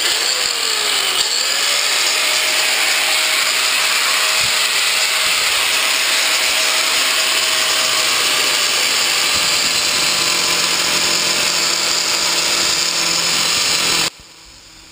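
An angle grinder fitted with a good blade cuts a clamped piece of tile or stone for a shower installation while a wet sponge is held to the back of the blade; one steady, loud, high whine runs throughout and then cuts off abruptly near the end.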